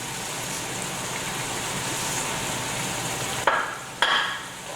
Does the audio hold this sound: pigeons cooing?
no